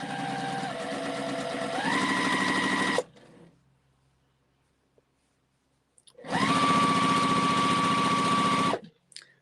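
Sewing machine stitching strips of Christmas fabric together, running in two loud steady bursts with a pause of near silence between them, the motor pitch rising as it speeds up.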